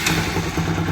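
A Bajaj Pulsar NS 200 motorcycle, its clutch one-way fault just repaired, runs close by with a steady, loud, low engine rumble throughout.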